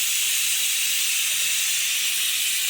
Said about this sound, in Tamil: cooker whistle அடங்குது